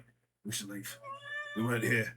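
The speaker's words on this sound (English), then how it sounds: "Is that a cat in the background?" A cat meows in the background at a tabletop role-playing game session, a high thin call heard between and under people talking nearby.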